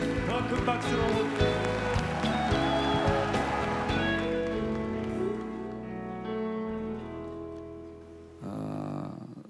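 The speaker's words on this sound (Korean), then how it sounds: "더 큰 박수로." At an Onnuri revival festival service, a church congregation claps even harder for Pastor Ha Yong-jo. The thick applause holds strong for several seconds, then thins and fades, breaking off near the end.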